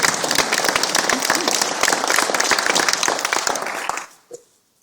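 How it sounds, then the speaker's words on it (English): A large audience breaks into loud, sustained applause at a citizenship or community ceremony, dense clapping filling the room before cutting off sharply into near silence, followed by a single faint knock. "Give yourself a round of applause once again."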